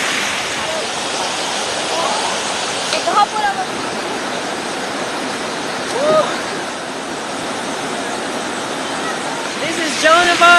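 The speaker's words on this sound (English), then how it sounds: "Cambugahay Falls in Siquijor" Cambugahay Falls in Siquijor pours steadily as a broad, continuous rush of falling water, with a few brief voices and splashes breaking through now and then.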